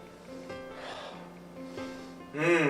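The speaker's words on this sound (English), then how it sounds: "So here we're gonna have a sniff." A person takes a couple of close nasal sniffs of a beer brewed with citra or Simcoe hops, short breathy inhales repeated with a pause between them, ending in a sharper burst.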